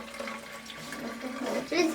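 Vinegar poured through a funnel into a bottle during a vinegar and baking soda experiment, a steady liquid trickle and gurgle lasting throughout, swelling louder near the end.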